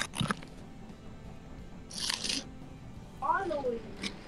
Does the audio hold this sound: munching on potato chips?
yes